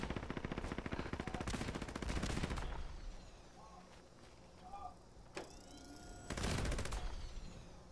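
Rapid automatic gunfire in Fallout 76 player-versus-player combat, with a long sustained burst, scattered single shots and a second heavy burst near the end, faint game effects between.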